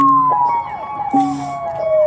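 A wavering, siren-like wail with sliding tones, heard loud and up close behind a French freestyle rap, with pitch drops and breaks midway.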